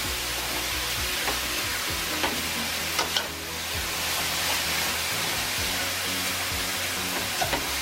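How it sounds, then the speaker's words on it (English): Ground turkey sizzles and crackles steadily in a pan over turned-down heat, with a spoon scraping and stirring through it and occasional sharper taps against the pan. "I'm gonna keep stirring"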